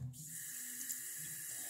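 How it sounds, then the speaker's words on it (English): Hot water running from a tap into a sink, a steady faint hiss of flow that stays even throughout with no voices. "we're gonna fill this up with water. Hot water."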